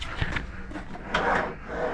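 Wooden drawers in a Norwegian Aqua cruise ship cabin slide open with soft rubbing, scraping sounds, close and fairly quiet, with no talking.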